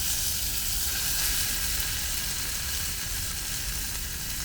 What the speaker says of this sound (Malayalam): ഇതേ നമുക്ക് ഇതിനകത്തായിട്ട് തേങ്ങാപ്പാൽ ഒഴിച്ച് കൊടുക്കാം.